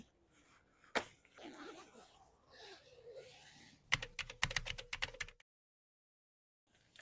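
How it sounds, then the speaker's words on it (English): A zipper on a Colugo Compact Stroller+ is pulled shut in a quick burst of close, crisp ratcheting rasps lasting about a second and a half, after a single sharp snap and some soft handling rustle. "we're going to zip this back up"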